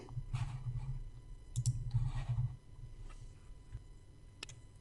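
Mouse clicks on a trading chart window, a few quick light clicks close to the microphone over a quiet background.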